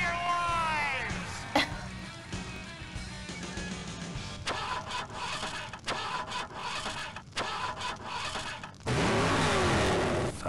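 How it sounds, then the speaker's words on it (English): Car engine and driving noises from a video game, a steady revving hum with sharp clicks and bursts that swells louder near the end, with a person talking over it. "more car noises"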